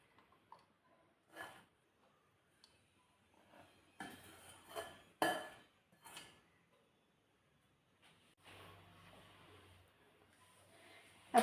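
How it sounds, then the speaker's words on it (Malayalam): Pan and plate clatter while bean thoran is moved onto another plate in a home kitchen, faint scattered clinks and scrapes in a quiet room, with a short cluster of knocks in the middle. "ഞാൻ ഇത് വേറൊരു പ്ലേറ്റിലേക്ക് മാറ്റുകയാണ്."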